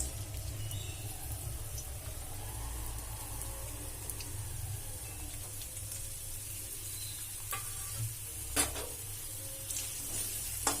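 Chopped onion frying in a few spoons of oil, a steady soft sizzle running throughout at low level, with faint scattered clicks of stirring toward the end and no talking.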